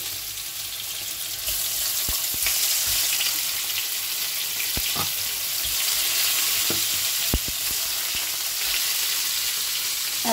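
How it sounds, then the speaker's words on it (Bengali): Fish frying in hot oil in a wok, a steady loud sizzle with occasional sharp crackles and pops, no voices. "মাছ ভাজা হচ্ছে"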